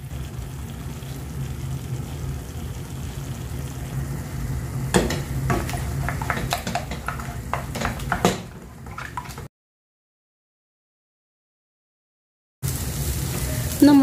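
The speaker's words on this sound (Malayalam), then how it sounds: "നമുക്ക് ആ മുട്ട കൂടെ ഒന്ന് സ്ക്രാമ്പിൾ ചെയ്തെടുക്കേണ്ട ആവശ്യമുണ്ട്" Eggs are scrambled with salt in a hot pan, with a light sizzle under repeated scraping and stirring strokes close by. The sound breaks off into a few seconds of silence before the sizzle resumes.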